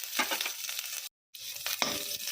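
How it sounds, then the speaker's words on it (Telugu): Dried red chillies, curry leaves and green chillies frying for gongura pulihora tempering give a close, bright sizzle with stirring scrapes, broken briefly by a short silent gap. "పచ్చిమిర్చి వేసి వేయించుకోవాలి"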